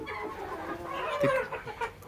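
Desi (native breed) chickens clucking close by on a poultry farm, a few bursty calls over a steady background murmur of the flock.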